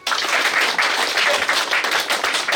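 Loud, dense audience applause in a motivational network-marketing talk, a steady wash of many hands clapping together without pause for a couple of seconds.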